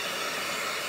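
A hair dryer blows during hair styling, a quiet, even rushing hiss that lasts under a second, with no talking.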